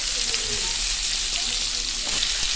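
Spices fry in hot oil in a pan, making a loud, steady hiss and sizzle with faint crackles throughout.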